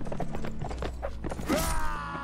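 Horse hooves clatter in quick, uneven beats during a chaotic siege battle in Warsword Conquest, a Mount & Blade Warband mod, mixed with clashing noise and a brief whinny-like cry near the end.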